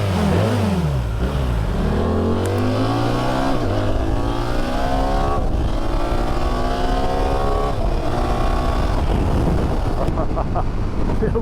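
A BMW R1300 GS motorcycle accelerates hard from a standstill, its engine climbing loudly through several rising gear pulls with wind roar, heard close from the rider's position.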